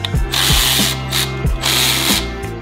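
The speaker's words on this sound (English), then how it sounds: "Get this line loose that's attached to the intake." A ratchet wrench turning a 7 mm fitting on the intake line of a Ford Focus RS, loud close clicking in repeated strokes of several pulls each, with no speech.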